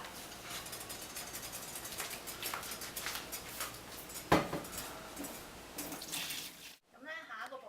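Water poured into kitchen equipment that has just been steam-sterilized for making yogurt and kombucha, a steady close trickling stream with a clink midway, then a quieter tail.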